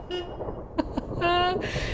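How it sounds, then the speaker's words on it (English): A car horn honks outside in a video game, with a few short, fairly faint toots and one longer blare over a low background hum. "a car honks outside"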